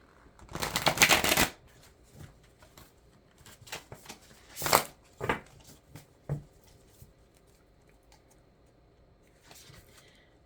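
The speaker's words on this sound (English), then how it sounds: "I'm going to shuffle a few times" Tarot cards being shuffled close up: a long riffling burst, then several shorter separate shuffles and taps spaced out, fading to near quiet at the end.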